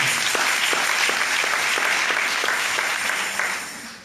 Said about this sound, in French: J'aimerais qu'on acclame le Seigneur.